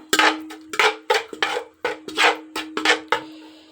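Spices such as coriander, cumin and chicken masala being stirred in a pot, a quick series of sharp clinks and scrapes of a spoon against metal, roughly a dozen uneven strokes, close and alone with no talking.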